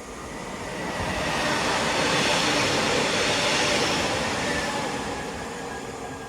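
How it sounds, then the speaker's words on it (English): Northern class 331 electric train 331017 runs through Wilmslow station without stopping, a steady loud rushing roar with wheel and rail rumble that swells and then slowly fades, with no voices. "we have a Northern 331 passing through"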